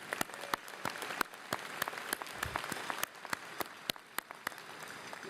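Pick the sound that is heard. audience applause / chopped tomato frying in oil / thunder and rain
audience applause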